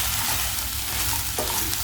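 A frying mixture with coriander is stirred in a pan, making a brief, loud, close sizzle with faint scraping of the spoon.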